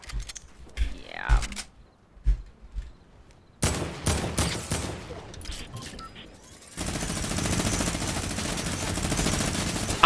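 Gunfire in Fortnite during a live event: sharp clustered shots and bursts crackle through the middle, then give way to a dense, sustained rumble of noise, with talking at times.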